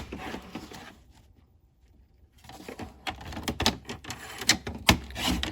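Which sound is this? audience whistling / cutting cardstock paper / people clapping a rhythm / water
cutting cardstock paper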